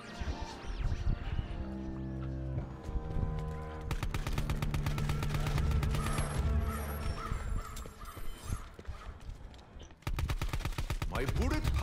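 Rapid gunfire in Call of Duty Zombies, with dense bursts of automatic shots against zombies layered over game music and effects, loud and continuous with brief pauses, while players talk faintly underneath.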